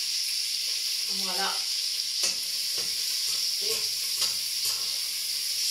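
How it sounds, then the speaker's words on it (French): Bacon lardons and garlic sizzle in a frying pan with a steady, close hiss, broken by a few soft stirring knocks and a brief spoken word. "Ça grésille bien, je vais baisser, voilà."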